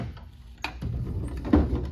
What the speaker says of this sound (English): Drawers are open real smoothly.